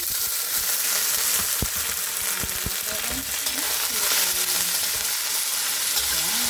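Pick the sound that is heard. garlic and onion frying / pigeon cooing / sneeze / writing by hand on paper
garlic and onion frying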